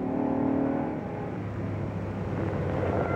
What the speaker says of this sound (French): Les vitesses passent très rapidement, même si c'est une transmission automatique